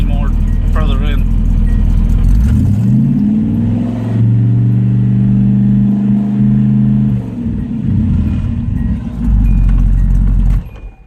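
A small-block Chevy engine in a Nissan D21 pickup, fitted with a Percy's adjustable-jet carburetor, rumbles loud and close at idle. It rises into a sustained rev, settles back down, then returns to a low idle.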